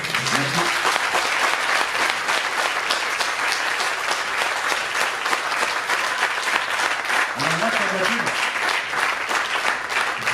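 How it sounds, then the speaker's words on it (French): Audience applause at a festival interview, a dense, sustained wash of clapping that keeps a steady level for about ten seconds, with brief bits of voice underneath. "Pour Catherine Nodin et Philippe Croison, je voudrais un tonnerre d'applaudissements."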